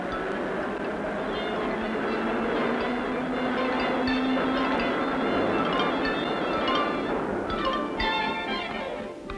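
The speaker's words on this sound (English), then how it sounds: "sounds of auto horns and subway wheels" New York subway train wheels rumble and screech along the rails in a steady roar, with squealing metallic tones rising near the end.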